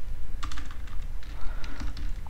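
Typing on a computer keyboard while coding a Unity touchpad script: a steady, fast clatter of keystrokes, close up, over a low background hum.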